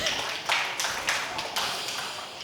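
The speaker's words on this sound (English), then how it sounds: "Yes, a huge round of applause," An audience at the 2018 Mirzapur series press conference claps in a scattered round of applause, with several sharper bursts standing out against a broad, fairly close wash of hand claps.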